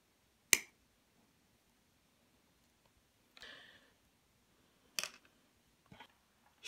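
Scissors cut off the excess of a small heat-resistant sleeve while building a USB soldering iron, giving several sharp, isolated snips spaced apart in a quiet room.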